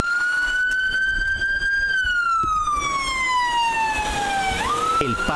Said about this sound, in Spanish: El paso de ambulancias aumenta